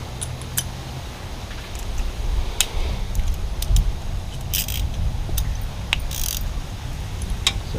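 A ratchet fitted with a 12 mm socket turning a bolt on a Kawasaki Z900 motorcycle, sharp close-up clicks coming in irregular bursts over faint background noise, with no speech.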